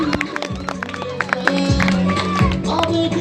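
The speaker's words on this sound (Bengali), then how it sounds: "জোরে হাততালি।" Applause and cheering from an audience at a Kali Puja stage show, with a ramp performance at a fair; clapping blends with crowd noise and a loud announcer-style voice over it, lasting a few seconds.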